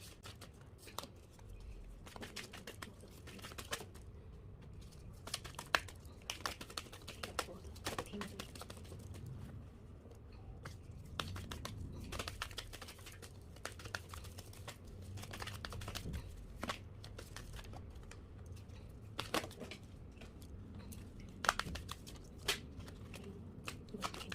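Tarot cards shuffled and handled before a reading, a steady stream of soft riffling, slapping and sliding card sounds with frequent sharp taps, close and moderately quiet, with faint low background hum.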